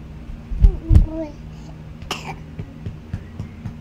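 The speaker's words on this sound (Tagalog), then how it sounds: "bigla na siyang inubo. May tunog pa nga yung ubo niya." A nine-month-old baby with a cold gives two close, loud, wet coughs, followed by fainter throat sounds and small vocal noises close to the microphone.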